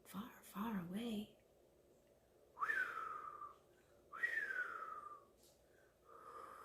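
A voice imitates wind whistling through trees, giving two drawn-out, falling whistles near the microphone, with a whispered, hooting voice just before and a third whistle starting at the end.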